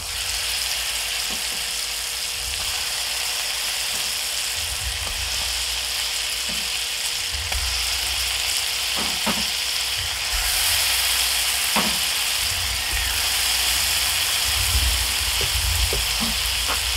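Scallops seasoned with Cajun spice and cayenne sear in a hot pan, giving a steady, loud sizzle and frying hiss that runs throughout with a few small pops and clicks and no talking.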